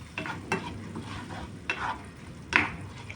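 A spoon scrapes and stirs sautéed sardines with pepper and seasoning powder in a frying pan, a handful of distinct scraping strokes over a soft, constant sizzle.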